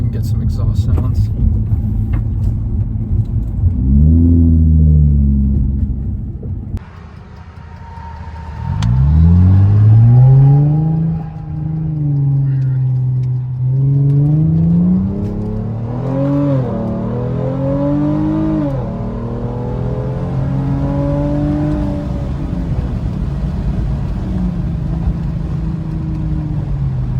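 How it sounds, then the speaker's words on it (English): A Hyundai Genesis Coupe 3.8 heard from inside the cabin with the window down, its exhaust rumbling and rising in pitch through repeated accelerations and shifts, loud and close, while occupants talk over it. "Pull the window down so we can get some exhaust sounds."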